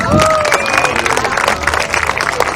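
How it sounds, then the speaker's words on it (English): An outdoor street performers festival audience claps and cheers for a street magician's handkerchief trick, a dense burst of applause with scattered shouts right up close. "clap your hands, folks!"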